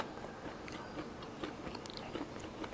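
Someone bites and chews fermented sausage eaten with garlic and fresh chilies, giving faint, irregular crunches and wet chewing sounds close to the mic.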